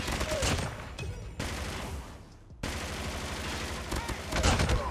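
Rapid gunfire from a PDW submachine gun in a Call of Duty multiplayer match, with sustained automatic bursts that briefly pause and then resume, loud and close, with a voice talking faintly beneath.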